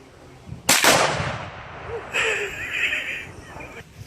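A single sharp Tannerite blast tearing out the side of a microwave, loud and abrupt, followed by a fading rumble, then a brief higher rattle as debris settles.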